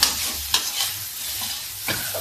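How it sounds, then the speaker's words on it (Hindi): Bitter gourd (karela) stirred and frying in a pan with turmeric and chaat masala, a soft steady sizzle with a few clattering stirs near the start, middle and end, close and moderately quiet. "चाट मसाला डाल दिया और अब इसको हम फ्राई करते हैं"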